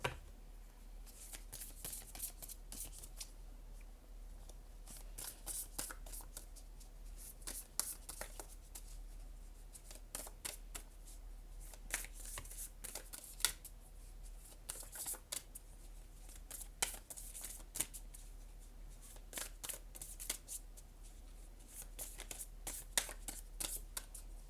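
Oracle cards shuffled by hand during a tarot reading, giving steady soft riffling and flicking bursts that repeat throughout at low level, close by, with no talk.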